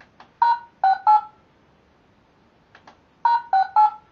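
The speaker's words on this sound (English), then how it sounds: "different pulse tones, and that increases the overall gain in steps of 2 dB up to a maximum of 12 decibels." Pulse tones from an iSync iNSTAFit hearing aid marking stepwise gain adjustments: two separate bursts of three short electronic beeps each, clean and moderately loud with quiet gaps between.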